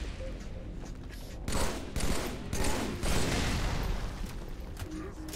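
Halo 3 gunfire, a dense rattle of rapid automatic shots in several bursts, loud and close, with short gaps between volleys and a few heavier blasts layered over the steady background din.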